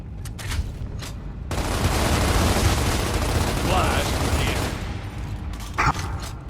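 Gunfire in Gears of War Remastered, a dense sustained burst of shots and explosive booms lasting several seconds, loud and close, with a sharp blast near the end and speech mixed underneath.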